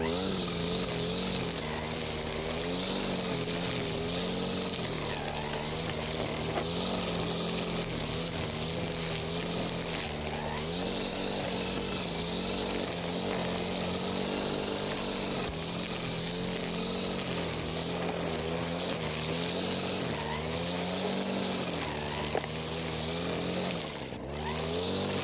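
An Active ST25B two-stroke brush cutter engine runs steadily at high throttle, a loud, continuous buzzing drone close by that holds for the whole stretch with slight pitch wavers and a brief dip near the end.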